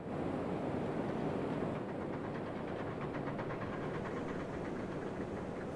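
Locomotive train rolling along in the railway game Railroads Online, a steady, continuous rumble with rhythmic clatter throughout, fairly loud and without any talking.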